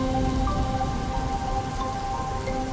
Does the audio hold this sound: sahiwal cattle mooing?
no